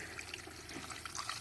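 Rain-X All Season 2-in-1 windshield washer fluid pours into the reservoir of a 2008 Nissan Xterra, a faint continuous liquid trickle and gurgle with small bubbling splashes.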